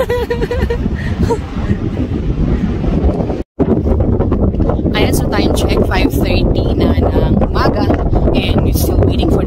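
Strong wind buffets the microphone on the summit of Mt Timbak, a high mountain in Luzon, roaring loud and continuous with a brief dropout midway while someone talks over it.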